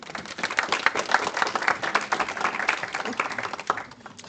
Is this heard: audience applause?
yes